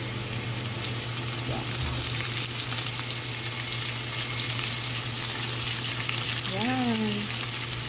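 Tomato frying in a hot pan while a meal is cooked, a steady broadband sizzle running throughout at close range, with a brief faint voice near the end.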